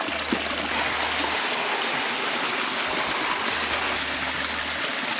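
A mountain stream tumbling through the Sucha Bela gorge in Slovak Paradise, with small waterfalls giving a constant close rush and splash, plus a faint low hum now and then underneath.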